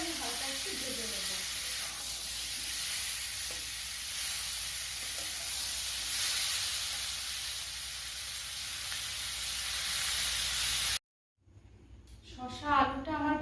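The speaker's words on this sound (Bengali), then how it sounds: "এবার শসাটাকে আমি হালকা একটু ভেজে নেব।" Sliced cucumber, with potato, fries lightly in a pan with a continuous hissing sizzle that holds steady for about eleven seconds. It cuts off abruptly, then a voice speaks.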